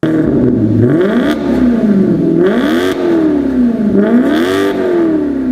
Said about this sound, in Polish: Maserati Gran Turismo kojarzy mi się z jedną z najpiękniej brzmiących V8 w historii motoryzacji